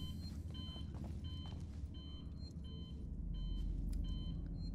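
Repeated electronic beeping in the survival horror video game Alien: Isolation, short evenly spaced tonal pips over a low rumbling ambient hum, moderately loud and steady.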